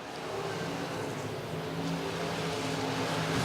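IMCA stock cars race at RPM Speedway in a continuous, fairly distant engine roar that swells slightly as the pack circles the dirt track.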